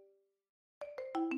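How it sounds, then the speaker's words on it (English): A phone ringtone for an incoming call: a short chime fades out, and after a brief silence a run of bright electronic tones climbs in quick rising steps, growing louder. "Incoming phone call from unknown caller."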